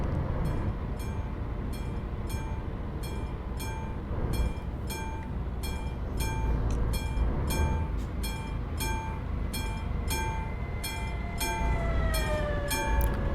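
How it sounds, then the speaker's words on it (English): A fast train rushes past a truck near the Polish town of Koszalin in Euro Truck Simulator 2. Steady rhythmic clacking of wheels over rail joints sits over a constant rumble, and rising horn-like tones sound near the end. "I did not expect that train to go by that fast"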